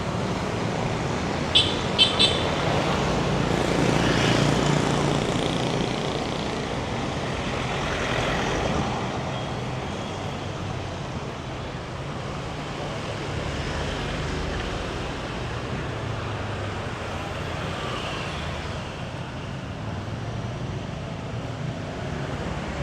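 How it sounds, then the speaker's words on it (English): Cars and motorbikes moving along a street in Saigon's Chinatown, Chợ Lớn, on an evening of lighter than usual traffic: a continuous moderate rumble with passing swells and a brief high squeak near the start. "we still got a good amount of cars and motorbikes here"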